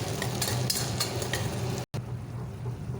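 Ground tomato with turmeric and chili powder sautéing in a pan for a broad bean curry, giving a soft steady sizzle with faint stirring scrapes, fairly quiet and close, briefly cut out near the end.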